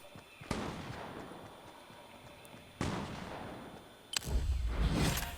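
Gunfire in a video game: a few sharp broadband bangs spaced seconds apart, each with a decaying tail, the last followed by a louder rumbling burst, with no talk over them.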